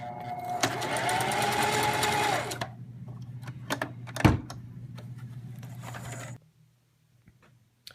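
A sewing machine stitching yarn onto a glove runs in a steady fast whirring burst, then slower, uneven stitching with a reverse pass and a clunk, before stopping into near silence; no talking.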